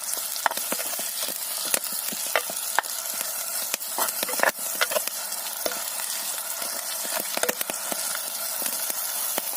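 Shrimp fry in a hot pan with steady sizzling and crackling, broken by sharp clicks and scrapes as they are stirred, close and without speech.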